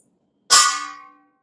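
Homemade ride and crash cymbals made from kitchen objects, including a wok lid, are struck together once, giving one loud, bright metallic clang that rings and fades over under a second, heard alone.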